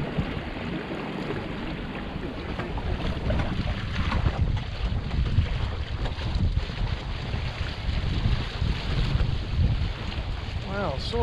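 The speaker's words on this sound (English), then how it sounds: "Saw that gust actually on the water." Steady wind gusts over open water while a Wayfarer dinghy sails, with loud, continuous wind noise on the microphone and the wash of water against the hull throughout.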